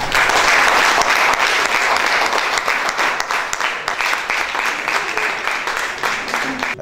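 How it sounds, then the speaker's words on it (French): Sustained applause from an assembly acclaiming an election at an extraordinary general meeting, a dense, even roar of many hands clapping continuously, loud and close, tapering slightly toward the end. "Nous pouvons procéder aussi par acclamation à son élection."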